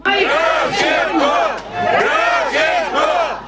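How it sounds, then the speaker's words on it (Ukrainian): A large crowd of a mayor's supporters at a rally shouts in loud rhythmic unison, chanting in repeated bursts with a short dip between phrases. "з боку прихильників мера лунають вигуки на його підтримку"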